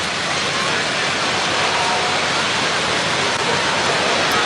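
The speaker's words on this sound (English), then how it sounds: "Pouring rain, extreme winds." Driving rain hammers a stadium roof at an Australian football game in Launceston amid extreme winds, an unbroken, hissing wash of heavy downpour that stays loud and even throughout.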